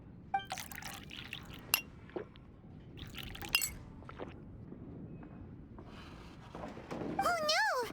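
Glass clinks and liquid pouring into a glass as juice is served in the video game Genshin Impact, a few bright taps followed by a filling pour near the end, with speech in between.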